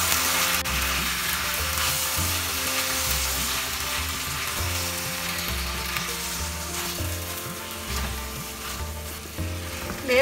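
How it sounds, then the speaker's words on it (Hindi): Chicken sautés with Chettinad masala in a pan over medium-high flame, giving a dense, steady sizzle with a rhythmic low scraping of the spoon stirring beneath it, close up and uninterrupted by speech. "3-4 मिनट हमें मसाला का साथ चिकन सौटे करना है।"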